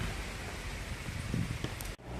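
Steady rain pours down over a garden of plants, a broad continuous hiss with scattered heavier drops throughout, briefly cutting off near the end.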